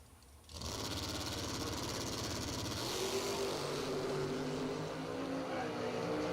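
A Corvette Roadster drag car launches hard off the line at a bracket race, loud engine roar rising in pitch and holding steady alongside a second car in the other lane.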